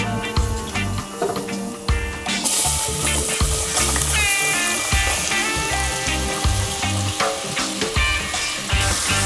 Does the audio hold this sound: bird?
no